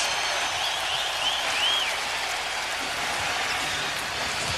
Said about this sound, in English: now he's asking the crowd for more noise as he walked to the bench